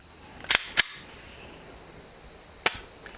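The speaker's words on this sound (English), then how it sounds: "We're going to take 12 shots at that steel target, semi-rapid fire" 9mm Perfecta rounds fired from a SIG Sauer P365XL at a steel target outdoors, a few sharp distant-sounding reports spaced irregularly over a steady background hiss.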